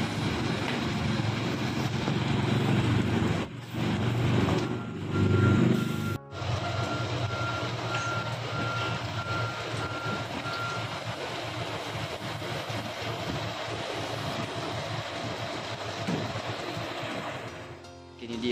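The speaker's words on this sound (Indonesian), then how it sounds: "Jadi bus Megamas akan parkir di samping bus Sinar Muda" A Megamas coach bus parks beside another bus at a roadside restaurant, a steady electronic reversing beep repeating over a loud, continuous idling diesel engine rumble and rain-soaked outdoor noise.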